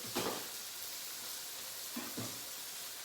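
Pot roast meat searing in a pot, a quiet continuous sizzle with a few short stirring bursts.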